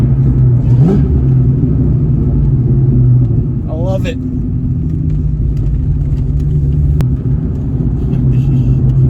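A 2003 Cobra sports car engine rumbles and roars steadily close by, with a brief louder rev, while a person speaks briefly over it.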